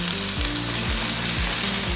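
Three medium chopped onions fry in a pan for a vegetable kurma, a loud, steady sizzle over a low, stepping tonal drone.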